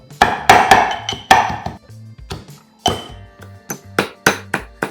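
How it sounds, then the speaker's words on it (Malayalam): Curry leaves, green chillies and shallots are pounded in a mortar with a run of close, heavy thuds at an uneven rhythm and short pauses between strikes. "കറിവേപ്പിലയും പച്ചമുളകും ചുവന്നുള്ളി എല്ലാം കൂടി ഇട്ട് നന്നായിട്ട് ഇടിച്ച് കൂട്ടിയെടുക്കാം"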